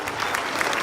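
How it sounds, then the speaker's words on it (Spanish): An audience at a church gathering bursts into brief, dense applause, many hands clapping together at moderate loudness for under a second. "Vamos a darle un fuerte aplauso."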